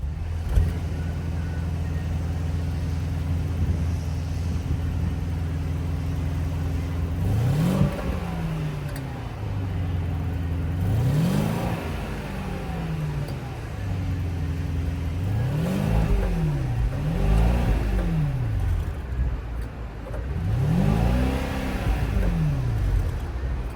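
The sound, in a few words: twin-turbo V8 engine revving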